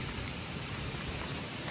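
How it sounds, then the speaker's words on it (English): Steady rain pours down during a storm, a dense, even hiss of drops on surfaces, continuous and moderately quiet with no voices. "the rain calmed down a little bit"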